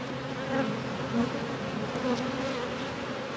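Honey bees buzzing steadily in an open home hive during an inspection, a close, dense drone of many wings holding at an even level throughout with no talking.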